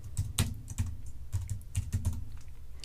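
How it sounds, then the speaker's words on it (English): Typing on a computer keyboard while entering creator details into a metadata template: a quick run of irregular, close key clicks with short pauses, no talking. "To save you watching me type all this in"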